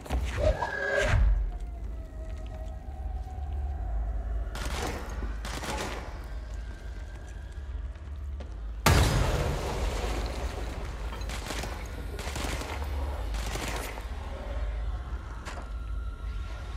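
Bursts of gunfire in the action game Control, with several sharp volleys and rattling fusillades spread across a quieter ambient bed, one heavy burst landing midway.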